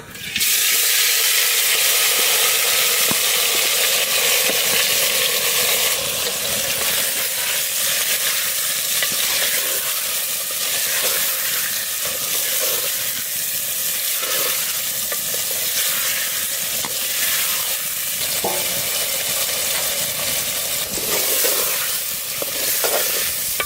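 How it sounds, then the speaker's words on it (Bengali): Spice-coated fish and potatoes fry in hot sunflower oil in a clay pot, producing a loud, constant hissing sizzle with occasional stirring clatter that runs steadily throughout, close and without speech. "তেল গরম হয়ে গেছে, মশলা দিয়ে মাখানো মাছ আলু টালু সব একসাথে দিয়ে দেবো"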